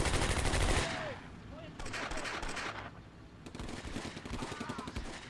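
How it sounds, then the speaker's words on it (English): Machine gun fire in the Combat Mission Beyond Overlord war game, with British and German infantry fighting. It comes as dense rattling bursts separated by short pauses, alongside scattered distant gunshots, and someone talks over parts of it. "Machine gun there."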